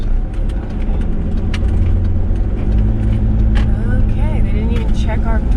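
A car passes nearby at a border crossing into Mexico, a steady close road rumble with engine noise running under conversation throughout.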